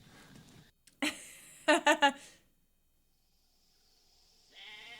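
A goat tethered as bait for a T-Rex in the Jurassic Park film, giving a short wavering bleat after a brief sound and a pause, and later a fainter call.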